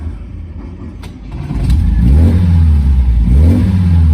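A 1970 MGB GT engine turns over and fires, then revs up into a loud, deep exhaust rumble with rising and falling pitch.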